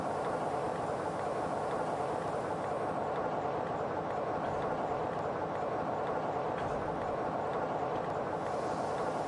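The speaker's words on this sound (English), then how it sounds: "You gotta go quite far down this track because you gotta make sure that the entire train can fit in the loop" A long coach train runs along the track in Trainz 22, a steady, continuous rolling rumble with faint ticking, heard alone without talk.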